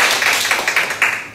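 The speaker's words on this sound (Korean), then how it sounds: "네, 박수 치고요." A small audience at a talk on family life and parenting claps together for a short burst, the separate hand claps coming in uneven, distinct pulses up close.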